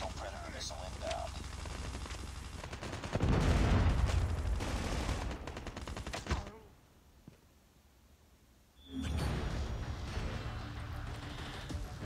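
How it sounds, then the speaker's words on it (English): Predator missile strike in Call of Duty Mobile, heavy gunfire giving way to a loud, booming blast that rumbles and fades to near silence, followed by another burst of loud battle noise. "Hostile predator missile inbound."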